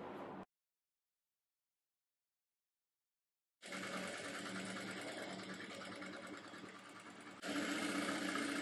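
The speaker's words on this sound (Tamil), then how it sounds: "மெட்டீரியலை மடிச்சு வச்சுட்டு இந்த ஃபுட்டர் கைடு அளவுக்கு அப்படியே தச்சு வந்துடலாம்" An electric sewing machine stitches a folded fabric strip for blouse piping, whirring steadily and closely. A short burst is followed by a few seconds of silence, then a long continuous run that speeds up slightly near the end.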